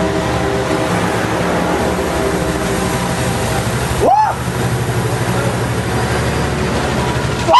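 Amtrak train shoved from the rear by engine 456 rolls past a station with a steady rumbling, droning engine hum. A brief whining tone rises and falls midway as the train passes.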